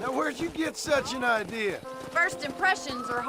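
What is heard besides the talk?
None of the usual background noises is heard.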